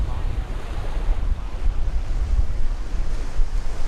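Ocean waves washing onto the beach at Playa Flamenco on Culebra, a steady low roar of surf mixed with gusty wind buffeting the microphone, loud and continuous with no voices.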